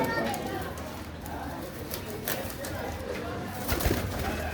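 Qasori pigeons cooing in a loft, soft low coos blending into a steady background hum with a brief wing or movement sound near the end.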